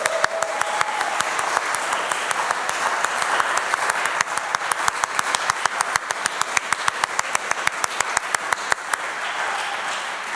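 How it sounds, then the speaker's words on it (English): A recital audience applauds a saxophone and accordion duo with a long, even round of clapping from many hands, joined by a sharp, rhythmic close clap that repeats steadily through most of the stretch. "let's give them one more round of applause"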